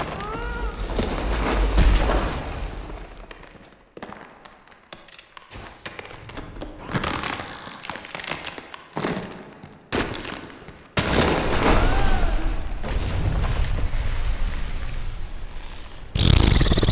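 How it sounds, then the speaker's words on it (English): Grenade blasts in The Curse of Brotherhood video game: a series of heavy thuds and booming bursts separated by quieter gaps, with a large, sustained blast about two-thirds of the way through and another sharp burst at the end. Other game sounds play underneath. "Grenade."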